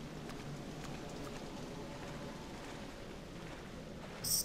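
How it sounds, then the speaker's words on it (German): Steady rain falling in the horror video game Project Zero: Maiden of Black Water, a soft continuous patter at moderate level with no talking. "Oh nein, es regnet."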